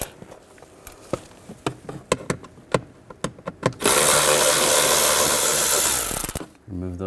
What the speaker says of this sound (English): Remove those screws.